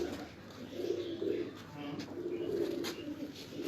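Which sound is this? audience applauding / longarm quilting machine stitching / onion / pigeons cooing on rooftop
pigeons cooing on rooftop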